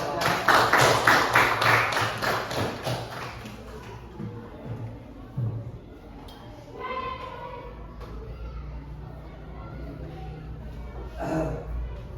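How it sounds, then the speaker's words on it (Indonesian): Classroom applause at a lesson session in Indonesia, a burst of claps in the first few seconds that fades quickly, followed by quieter room noise and a few light taps. "berikan tepuk tangan"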